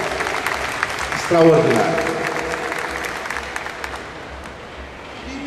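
Audience at a legal talk on the right to health giving applause, a soft sustained patter of clapping with a speaker's voice briefly rising over it before the clapping fades lower.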